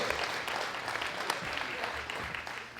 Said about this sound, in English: Big round of applause for all of our